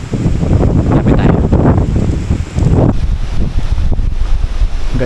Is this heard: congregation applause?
no